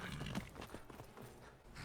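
A horse in Skyrim Anniversary Edition clops its hooves in a quick, uneven patter, with a short whinny mixed in, moderately quiet and close over low game ambience.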